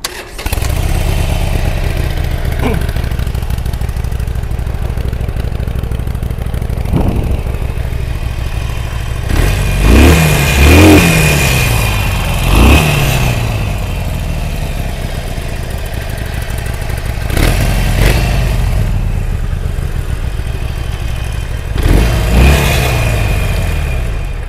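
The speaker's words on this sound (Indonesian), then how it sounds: "Okey, kita dengar tengok 800 cc punya bunyi macam mana." A 2021 Harley Davidson Iron 883 motorcycle, an 800 cc class V-twin, idles with a deep rumble and is revved several times in loud surging bursts, close by with no talk.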